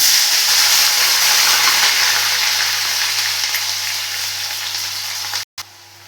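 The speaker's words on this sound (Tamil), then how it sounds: "கடுகு பொரியவும் வெங்காயம் கட் பண்ணிட்டு அதையும் போட்டுக்கிடலாம்" Mustard seeds and urad dal splutter while chopped onion fries in hot oil for a split moong dal and amaranth greens stir-fry. A loud, steady hissing sizzle fills the clip, then cuts out briefly near the end.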